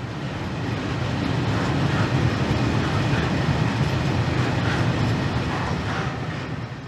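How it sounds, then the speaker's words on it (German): A Lithuanian LTG Cargo M62 diesel locomotive, number 1150, rolls past on former broad-gauge bogies at Mockava station, a loud, steady rumble with faint rhythmic wheel clatter that swells and fades slightly. "M62 der litauischen LTG Cargo mit der Nummer 1150 fährt auf ehemaligen Breitspurdrehgestellen."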